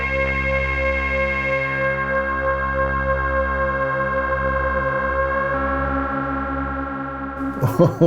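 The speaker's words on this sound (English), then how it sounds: "let's put a bit of LFO on the echo time, make it a bit slower, get some nice little weird things happening" Dreadbox analog synth playing a sustained, harmonically rich drone through its echo, with an LFO slowly modulating the echo time so repeats warble and smear; loud and continuous, ending in a brief burst of glitchy pitch-swept artifacts.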